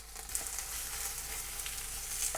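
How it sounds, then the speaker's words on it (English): Spring onions and onions sizzle in oil in a ceramic clay pot, a steady hissing crackle with small pops throughout, moderately quiet. "once they're sizzling, let's add in our onions"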